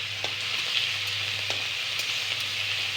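Garlic and ginger paste frying in hot oil makes a dense, even sizzle up close, with soft ticks and scrapes as it is stirred.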